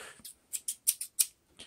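Titanium non-stick 8-inch scissors snipping through Velcro, about six quick close crisp cuts in an irregular rhythm, with nothing else heard.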